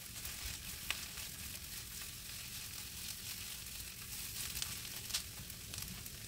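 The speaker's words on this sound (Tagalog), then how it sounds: "Ilagay ang spring onion at igisa ng 1 minuto." Onion and spring onion sautéing in a pan for tofu fried rice, a steady close sizzle and crackle with faint stirring, no voices.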